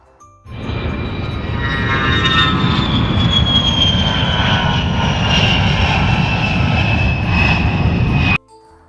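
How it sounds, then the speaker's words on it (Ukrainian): A loud, steady airplane engine roar with a high whining tone, sustained for several seconds before cutting off abruptly. "Літак."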